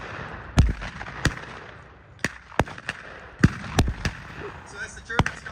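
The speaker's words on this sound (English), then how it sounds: "we have the Vickers machine gun that's getting into service to lay down covering fire" Blank gunfire cracks out at a World War One reenactment in Rockford, Illinois, where a Vickers machine gun lays down covering fire: loud, sharp reports arrive singly and irregularly, several seconds apart, over a low outdoor rumble.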